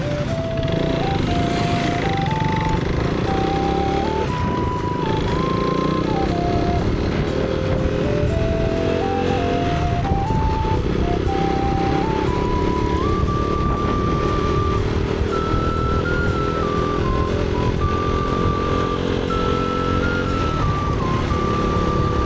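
Motorcycle ridden on the road near Thiksey in Ladakh, a loud, steady engine drone throughout with the pitch climbing in repeated steps as it shifts up through the gears.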